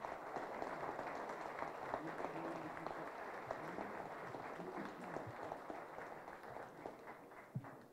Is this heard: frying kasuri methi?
no